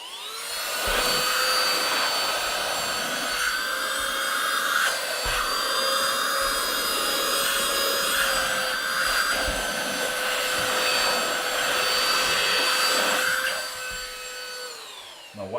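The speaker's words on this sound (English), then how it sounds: "It's time to use a vacuum cleaner" A small handheld vacuum cleaner runs loud and close with a steady high whine, dipping briefly a few times before winding down at the end, with no talking.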